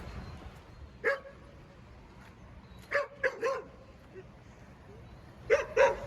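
Dog barking outdoors by a playground at Lake Ohrid, Macedonia, giving several short sharp barks in scattered pairs and singles at moderate distance over quiet background.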